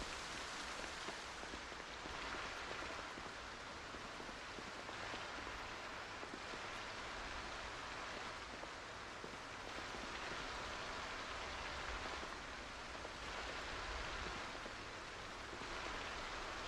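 Steady, dense rain in the zombie survival game Project Zomboid hisses continuously and loudly, with slow swells in intensity and no other sounds on top.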